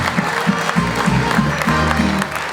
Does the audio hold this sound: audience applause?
yes